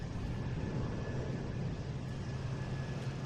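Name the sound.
JetBlue Airbus A220 jet aircraft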